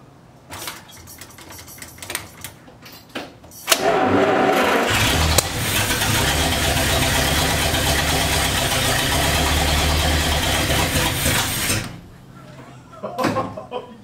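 A 1939 Buick engine turns over and catches, then runs at a loud, steady idle for several seconds before cutting off, with excited voices talking before and after.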